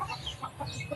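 Backyard chickens cluck in short, scattered bursts nearby, several soft calls overlapping across a brief moment with no talk.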